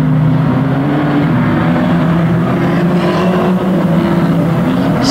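Pre-1980 classic banger racing cars roar around the Kings Lynn track in a loud, continuous engine drone with layered revving tones, sustained close by and no talk.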